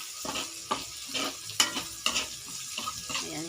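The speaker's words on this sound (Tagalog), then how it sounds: "Pa-brown na to ang atong sibuyas at bawang." Onion and garlic browning in a pan for adobo with kangkong and tofu, a close sizzle broken by rhythmic spatula scrapes and taps every half second or so.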